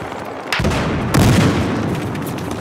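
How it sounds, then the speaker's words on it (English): A loud grenade blast and bursts of gunfire in the video game Battlefield Hardline, two heavy booms rolling into sustained crackling shots. "Tossing a grenade!"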